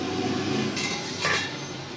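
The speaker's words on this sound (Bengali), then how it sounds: "আমি ঢাকাটা খুলে দেখবো" A metal lid is lifted off a pot of onions frying in oil, giving two short clinking clatters over a low, steady background sizzle.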